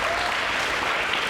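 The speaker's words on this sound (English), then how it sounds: "You can clap for him, that's okay." An audience claps for a police officer at a school DARE event, with dense, steady applause filling the short moment and no voices over it.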